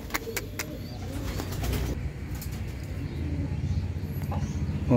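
Young racing pigeons coo and flap at the loft, with soft low cooing, a few wingbeat bursts and light rustling, close by under a steady background.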